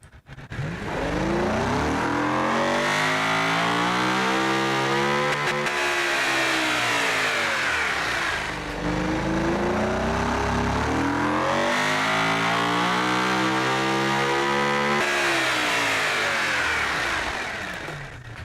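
A video game hearse built up and tuned for speed, its engine revving loudly and continuously, pitch sweeping up and falling back in repeated waves with no talking over it.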